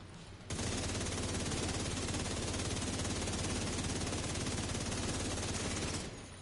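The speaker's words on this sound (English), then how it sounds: "Oh, we got another machine gun guy." Enemy machine gun fire in The Division 2: a dense, continuous automatic rattle that starts abruptly, holds steady and loud for about five and a half seconds, then stops.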